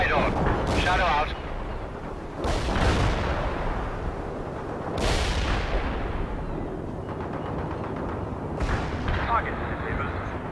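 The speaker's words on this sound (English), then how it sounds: "Cluster bomb hit right on." World in Conflict video game cluster bomb explosions boom in a series of heavy blasts with rumbling tails, mixed with gunfire and battlefield noise while voices speak over the action.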